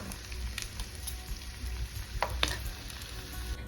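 Eggs frying in a kadai for a dhaba-style mint egg fry, a soft, steady crackle and sizzle with occasional sharp pops and light stirring scrapes, fairly quiet and close, with no voices.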